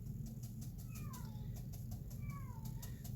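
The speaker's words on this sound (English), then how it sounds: "And that's Harrison crying in the other room, the one-eyed cat." A one-eyed cat cries from another room, two drawn-out, faint meows heard at a distance over a low steady background rumble, with no voices.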